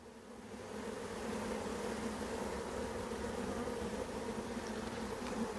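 Honeybees in an open hive during a nuc transfer produce a continuous, even droning buzz, close and steady throughout, with no talking.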